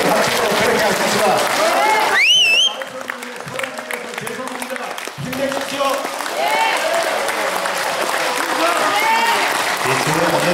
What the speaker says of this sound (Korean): 저는 오늘 주신께 큰 박수 부탁드리겠습니다.